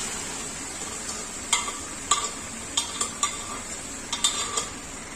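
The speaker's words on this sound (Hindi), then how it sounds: "2 से 3 मिनट तक हम अच्छे से चम्मच चला लेंगे पहले" A spoon scrapes and clacks against a pan while a Chhattisgarh-style vegetable curry of dodka, karil and munga bhaji is stirred, several distinct knocks spaced irregularly over a soft low sizzle, close and moderately quiet with no talking.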